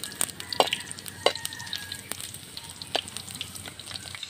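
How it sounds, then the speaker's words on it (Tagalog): Ginger sautés in a hot pan as the first step of a Filipino dinuguan dish, a steady close sizzle with several sharp clicks and scrapes from a utensil stirring it. "So guys, start na tayo sa paggisa. Luya."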